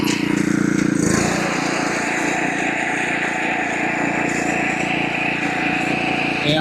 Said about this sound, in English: Okay, we're mowing.